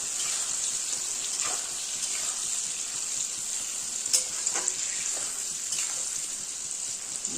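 Whole peeled garlic cloves fry in hot oil for a mutton curry, a soft steady sizzle with a few light clinks of a spoon against the pan, fairly quiet with no talking.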